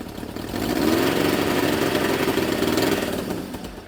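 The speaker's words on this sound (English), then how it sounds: "I've never heard it rev up that high." A vintage motorcycle engine, Honda or Suzuki, fitted with an oversized main jet, revs up from idle to a sustained high drone close by, holding for a few seconds before dropping back, with no talk over it.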